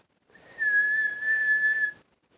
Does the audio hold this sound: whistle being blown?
yes